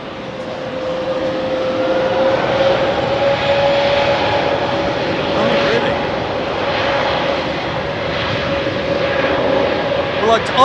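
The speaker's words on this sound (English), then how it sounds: "But have they just kept the APU running?" A jet parked at Heathrow with its auxiliary power unit running, giving a loud steady whine and roar with a constant tonal hum, as people talk over it.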